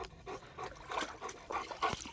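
A dog laps water in quick, wet bursts, close by, with soft splashing between laps.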